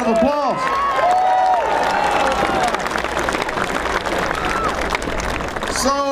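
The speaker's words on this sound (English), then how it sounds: "Give him a big round of applause." Crowd applause and cheering at a Barack Obama campaign rally in Portland, Oregon, greeting Mayor Tom Potter, loud and sustained throughout with a voice calling out over the start.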